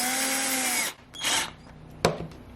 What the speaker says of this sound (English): And just simply driving my screws down.